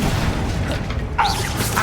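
A Confringo fire spell blasts in Hogwarts Legacy: a loud, full-bodied burst with a whooshing, booming spread that carries through the short clip.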